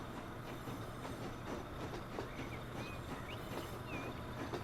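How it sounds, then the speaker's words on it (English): Train departing a station in the video game Transport Fever 2, a steady rolling rumble with faint rhythmic wheel clicks and a few brief high squeals, moderately quiet and continuous, no talk. "Oh well, that's a good sign, because this train is leaving."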